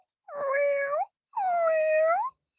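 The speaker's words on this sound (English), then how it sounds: "Meow," A cat gives two long, drawn-out meows, each about a second, loud and close with a clear gap between them and nothing else audible.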